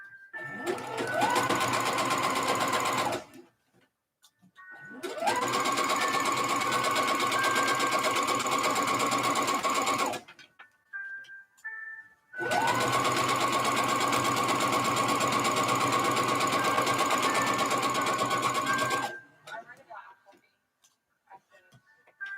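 A sewing machine stitching a kimono runs in long steady bursts, close and loud, pausing briefly between runs, with faint handling clicks in the gaps.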